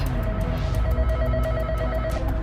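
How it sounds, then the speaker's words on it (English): A telephone bell rings in steady rapid pulses, at moderate level over a constant low hum, with no talking. "Somebody's phone is ringing!"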